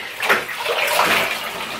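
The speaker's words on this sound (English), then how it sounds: "I'm gonna dip it in and out of the water." A brushed-out synthetic hair wig is dipped in and out of a basin of water, giving steady close sloshing and splashing that swells twice as it plunges, with no talking.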